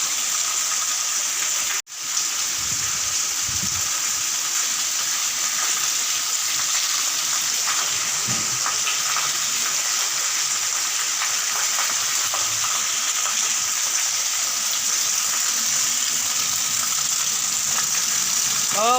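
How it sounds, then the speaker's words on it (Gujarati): Steady rain falls in a continuous hiss with scattered drips and patter close by, constant throughout, with a brief dropout near the start and faint background sounds. "જુઓ વરસાદ ચાલુ થઈ ગયો છે"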